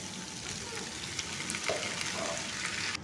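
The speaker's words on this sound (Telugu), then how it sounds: "ఆనియన్స్ని వేసుకొని ఫ్రై చేసుకోవాలి ఫ్రెండ్స్" Two and a half kilograms of onions fry in a large batch for an eight-kilogram chicken biryani, with whole spices already in the oil, giving a steady loud sizzle throughout with small crackles and pops.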